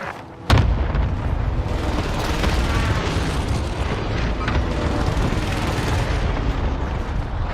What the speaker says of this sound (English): Allied cluster strike arriving. Authorizing airstrike on my vector.